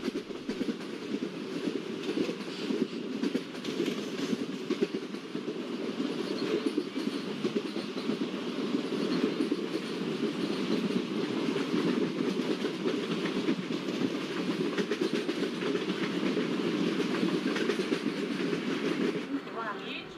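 A video-game diesel locomotive train, an Indian WDP4B, rumbles along steadily with a continuous rhythmic rattle of wheels on track, sustained and fairly close throughout.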